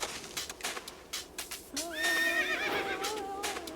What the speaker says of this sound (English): Why do we hear horses?